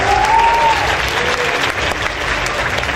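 An audience applauds at a drag performer's interview, a steady loud burst of clapping from a crowd with a brief voice rising over it at the start.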